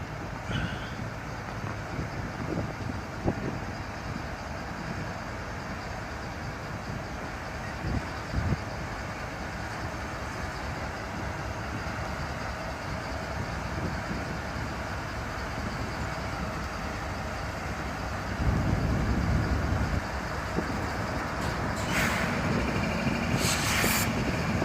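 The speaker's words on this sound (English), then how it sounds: "I caught these two CSX locomotives running light power" Two CSX locomotives running light power idle and rumble near AK Steel in Middletown, a steady low engine drone that swells louder toward the end as they pull away, with a brief higher tone near the close.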